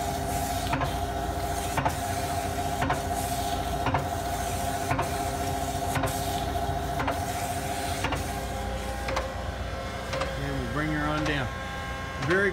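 A Vemag Robby 2 sausage stuffer with linker runs steadily, a low constant mechanical hum with regular ticking clicks about once per second, and a brief whirring pitch sweep near the end.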